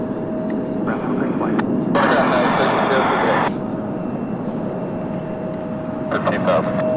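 Jet airliner taking off at SFO airport, heard as a broad, steady roar from a distance that swells briefly louder in the middle, with a faint tonal whine running underneath.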